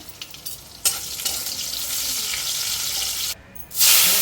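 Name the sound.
onions frying in a pan with garlic and dried chillies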